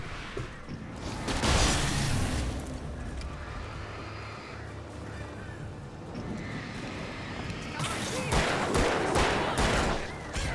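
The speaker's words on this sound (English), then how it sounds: "I'd like to introduce you all to my friend, the flare gun" Flare gun fired in the horror video game Alan Wake, a loud bright whooshing blast with crackling burst, followed by dense layered game noise and more loud impacts toward the end.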